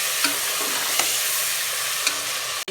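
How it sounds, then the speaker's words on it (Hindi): Mutton pieces fry in oil in a pan for saag gosht, a steady close sizzle broken by a few sharp spoon knocks against the pan as the meat is stirred. "यहाँ पे माशाल्लाह हमारा गोश्त अच्छे से फ्राई हो चुका है"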